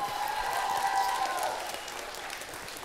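Audience applause greets Olympic discus champion Virgilijus Alekna at a school lesson event, a steady wash of many hands clapping at moderate level that fades slightly toward the end.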